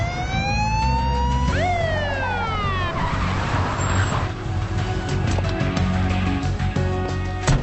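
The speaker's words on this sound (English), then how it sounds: "Where's the siren alarm?" A loud wailing emergency siren sweeps up and down close by, its pitch jumping sharply once, over heavy vehicle noise and a rough skidding rumble that continues as the wail fades.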